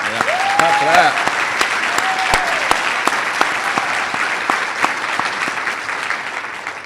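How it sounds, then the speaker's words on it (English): A live studio audience applauds at a talk show with the general manager of FITTEAM Ballpark, loud, dense clapping that carries for several seconds with a brief whoop near the start. "Clap for that."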